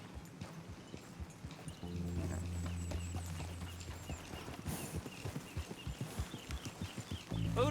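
Horse hooves clip-clop at a steady riding pace in the video game Red Dead Redemption 2, a continuous rhythmic clatter with a brief voice-like tone partway through.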